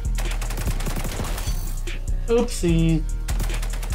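Gunfire in XDefiant's gun game mode, rapid shots crackling in bursts under continuous talking, with a brief electronic chime near the end.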